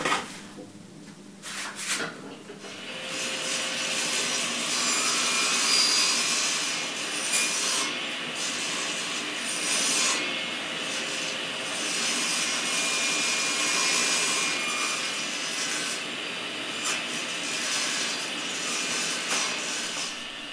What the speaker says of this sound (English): I cut the tenons on the stiles using a stop block mounted on my table saw slip